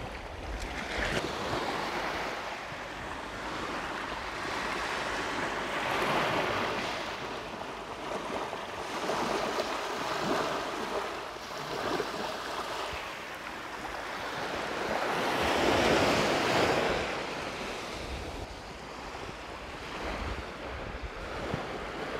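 Sea surf washing onto Nang Tong Beach in Khao Lak, a steady broad wash of breaking waves that swells and recedes, with wind buffeting the microphone throughout and no voices.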